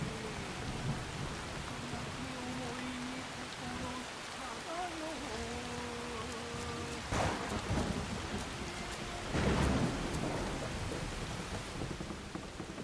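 Heavy in-game rain with rumbling thunder in Assassin's Creed Shadows, a dense continuous downpour with two stronger thunder swells, faint tonal game sounds weaving underneath.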